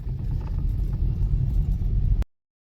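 A car drives along a road in India after refuelling, giving a steady low engine rumble and road noise from inside the vehicle that cuts off abruptly near the end.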